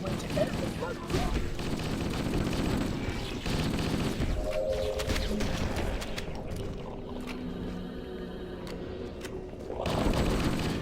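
M5B assault rifle fire in Halo: Combat Evolved, rapid automatic bursts crackling over dense combat noise and game music, with someone talking over parts of the action.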